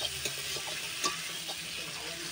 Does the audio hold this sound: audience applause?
no